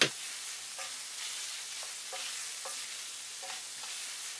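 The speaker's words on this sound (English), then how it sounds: "just browning the meat like I'm going to show you" Meat browning over high heat in a hot pan for moussaka, a steady broadband sizzle with a few soft stirring scrapes, close and alone with no talk.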